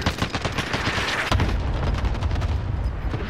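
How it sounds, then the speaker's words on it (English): Cluster strike explosions tear through a Call of Duty Warzone Rebirth match, a dense, loud barrage of overlapping booms and rapid blasts that swells into a heavier low rumble partway through and keeps pounding to the end. "Cluster strike incoming"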